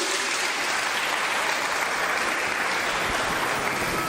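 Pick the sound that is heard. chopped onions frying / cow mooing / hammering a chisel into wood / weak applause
weak applause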